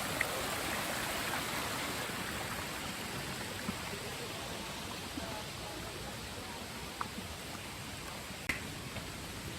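Neer waterfall near Rishikesh gives a constant, even rush of flowing water, a soft wide hiss with no break, heard alone with only a few faint ticks on top.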